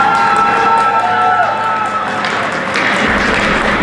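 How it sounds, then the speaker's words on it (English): A large crowd applauds and cheers over an echoing public-address voice at a youth ice hockey medal ceremony, loud and sustained in a big arena. "let's have a big round of applause for the Richfield Lions."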